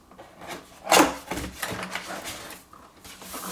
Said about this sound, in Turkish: Heyecanlı bir şekilde kutuyu açıyoruz arkadaşlar.